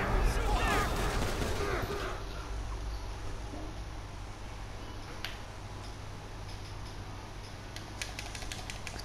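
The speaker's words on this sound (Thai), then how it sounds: "โอ้เราก็โดนตำรวจยิงตาย" Police open fire in Grand Theft Auto V Online, a dense burst of game gunshots over a steady loud hum that trails into scattered faint cracks, while someone talks over it.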